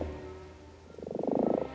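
A common toad gives a quiet pause, then a rapid pulsing croak, a fast train of low, throaty trills swelling in loudness near the microphone.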